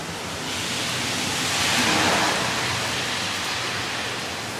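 Steady rain falls on a garden and wet concrete after a long dry spell, with runoff. It makes a dense, even hiss that swells slightly in the middle and continues unbroken, with no talk.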